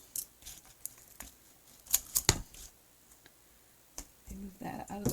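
A pair of craft scissors is picked up and handled, giving scattered sharp clicks and clacks with a louder cluster of taps midway, all close up and set against quiet room tone.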